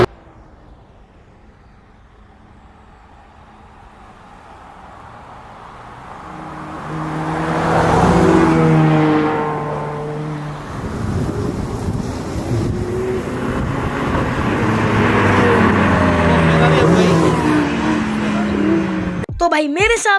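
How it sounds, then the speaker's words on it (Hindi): An Audi R8 and a Ferrari Spider run a drag race. Engine roars build from a quiet start, swell loudly as the cars pass close by, then rise again in pitch as they accelerate away, with wind buffeting the microphone. "एक सुपर कार है ऑडी R8 एंड दूसरी है फेरारी स्पाइडर"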